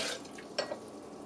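Bone broth, about two cups, being poured from a container into a bowl of raw dog food, with a soft liquid splash and a couple of light clinks against the bowl, brief and close.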